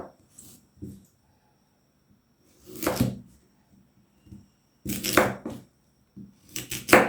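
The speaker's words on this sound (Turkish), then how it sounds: "Normal düz şu şekilde doğrayalım" Several separate chopping strikes of a knife slicing beetroot on a cutting board, in irregular bursts with quiet gaps between them, close and fairly soft.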